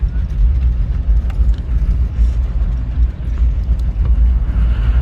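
A Toyota HJ61 4x4 engine runs steadily with a deep, continuous low rumble that stays fairly loud throughout, with no talking.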